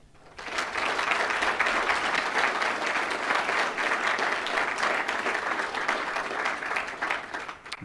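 Sustained audience applause at a recruit graduation ceremony, a dense, even wash of many hands clapping that swells quickly and holds steady for several seconds in an indoor hall.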